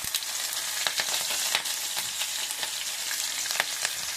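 Split chickpeas, urad dal, black pepper, cumin and green chili sizzle steadily in hot oil for Kanchipuram idli, a close, continuous crackling fry with small pops and stirring scrapes throughout, no voices.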